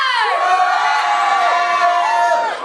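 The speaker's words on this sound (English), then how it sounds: "If you're wearing a costume, give me a loud cheer!" A loud, sustained cheer rises from a costumed theater audience, many voices whooping and shouting together at full volume for the whole stretch.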